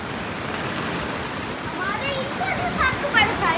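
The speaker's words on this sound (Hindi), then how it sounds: "बड़े पेड़ों से ये बारिश तो काफी हो रही है।" Steady heavy rain pours from big trees as a dense wash of noise, with birds chirping faintly in the background throughout.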